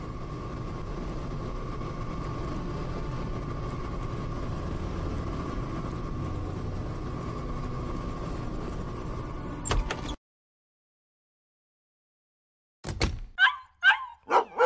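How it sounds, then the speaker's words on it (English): Dog barking in the Dead to Rights video game: a steady ambient hum, then a short silence, then a few sharp, close barks in quick succession near the end. "That's Shadow barking."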